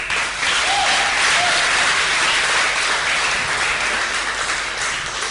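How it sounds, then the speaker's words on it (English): Sustained, dense applause from a large audience at a society and volunteering awards ceremony, loud and even from start to finish with no break. "So another applause"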